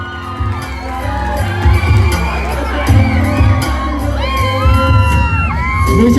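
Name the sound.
crowd clapping and cheering for Paresh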